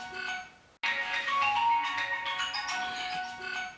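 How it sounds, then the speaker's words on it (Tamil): Mobile phone ringing with a repeated incoming call: a melodic electronic ringtone plays close and steady, briefly cut off and then resuming with bright tonal notes. "அவன் திரும்ப திரும்ப கால் அடிச்சுக்கிட்டே இருக்கான்"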